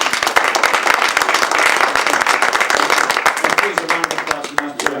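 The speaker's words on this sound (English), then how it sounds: "Please, a round of applause for these two guys." An audience at a Kyusho Jitsu pressure point seminar claps loudly for two presenters, a dense, fast patter of many hands that holds steady and thins a little toward the end.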